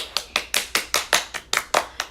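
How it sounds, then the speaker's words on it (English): Hand clapping from one or two people, about ten sharp, evenly spaced claps in quick succession, close and dry, with no talk over them. "Everybody give us a round of applause."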